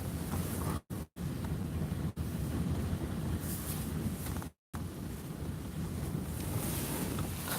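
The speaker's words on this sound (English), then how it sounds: "I hope the wind dies down here pretty soon." Strong wind buffets the microphone outdoors on a blustery day, a loud, continuous roar with brief dropouts, and no voices.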